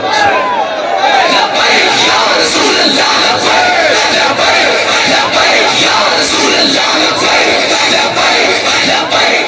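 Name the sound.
crowd chanting Labbaik slogans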